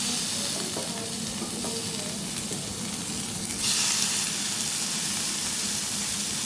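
Prawns fry in hot oil for a yam dish, a steady close sizzle with stirring scrapes that grows brighter and louder midway, no talk.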